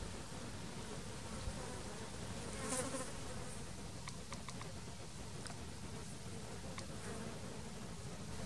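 Swarm of bees buzzing thickly near a water source outdoors, a steady dense drone with a few sharper passes of individual insects close by, continuous throughout.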